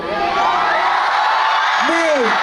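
Dense festival crowd noise from a university fair concert, a continuous roar of cheering with a few rising whoops and shouts standing out near the end.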